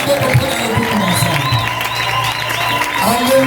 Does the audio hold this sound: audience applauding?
yes